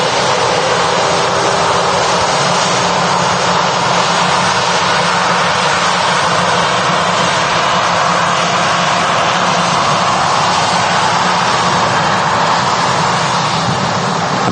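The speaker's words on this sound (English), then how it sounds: "we've got this TUI Dreamliner now lined up." A TUI Boeing 787-9 Dreamliner jet takes off from Manchester Airport, a loud, dense, unbroken engine roar that stays level throughout, close and alone with no speech.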